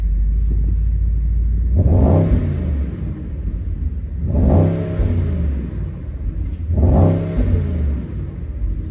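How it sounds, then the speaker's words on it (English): A Mercedes-AMG GT63 engine revved three times in a row, each rev rising to a loud roar and settling back to a rumbling idle. "Give y'all some revs."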